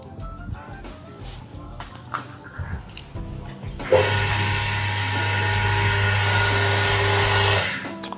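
A Hazen EPC130HZN jet cleaner for touchless car washing starts after a few seconds of light clatter. Its motor hum and hissing water spray run steadily for about three and a half seconds, then cut off.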